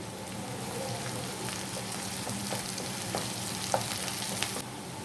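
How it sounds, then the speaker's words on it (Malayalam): Curry leaves crackle and sizzle in hot oil while the base for a mutton curry is fried, a steady close hiss dotted with sharp little pops and spatters, alone with no talk. "ഇനി ഇത് മൂപ്പിച്ചെടുക്കാം. ഇതിലേക്ക് കുറച്ച് വേപ്പില ആഡ് ചെയ്യാം."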